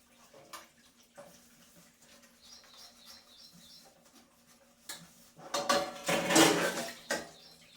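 Plates and dishes are scrubbed and rinsed at a sink. Faint clinks and scraping give way to a louder rush of running water and clattering dishes near the end, with no talk.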